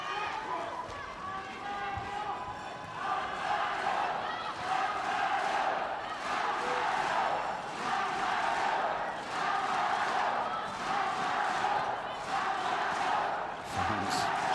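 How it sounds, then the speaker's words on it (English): Handball fans at a women's world championship match between Korea and Greenland roar steadily from the stands, a dense, sustained crowd din with swelling waves of cheering and shouts over the full stretch, joined by a commentator's voice. "Fans cheering madly in the stands."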